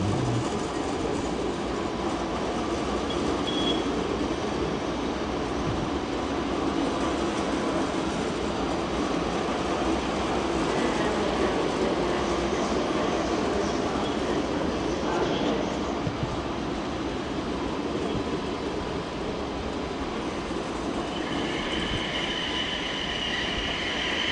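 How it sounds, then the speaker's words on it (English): An ICE 3 high-speed train rolls steadily into Frankfurt Hauptbahnhof with continuous wheel rumble and rail noise, faint squeals rising near the end, and some distant voices underneath. "there's the ICE3 arriving, don't know where from."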